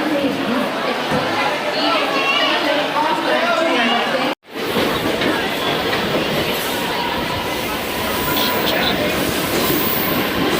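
A train at crowded Dadar station in Mumbai rumbles and clatters loudly nearby, with wheel noise and a brief cut partway through, under a thick mix of crowd chatter and voices.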